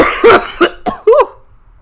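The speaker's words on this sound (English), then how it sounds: "Cough, cough, cough." Four short, sharp coughs in quick succession, close and loud, fading off into a brief pause.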